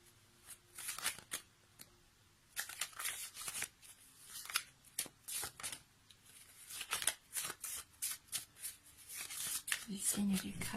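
Oracle cards are shuffled close up in quick bursts of riffling and flicking, with soft pauses between them, under occasional quiet speech.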